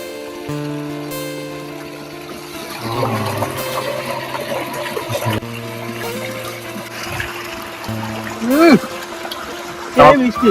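Water splashes and trickles as a banana leaf is washed, with the sound partly buried under people talking and some tonal background sound.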